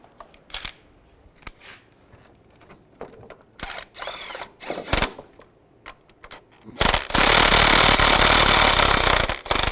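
Bolts on the front engine mount of a 2010-2017 Chevrolet Equinox being tightened, starting with scattered clicks and metallic knocks, then a loud, steady mechanical burst like an impact or power tool running for the last few seconds.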